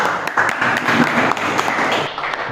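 Classroom applause for a student named Joshua, a steady patter of many hands clapping close by with a faint voice underneath, thinning out near the end.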